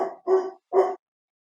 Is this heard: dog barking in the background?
yes